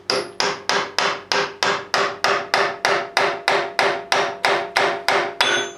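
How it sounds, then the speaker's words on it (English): A hammer drives a chisel to split a part off the injector pump of a 2001 Ram 3500 Cummins during teardown. About fifteen sharp metallic blows land in a steady, even rhythm, loud and close, with no talking. "Use a chisel in behind to separate it."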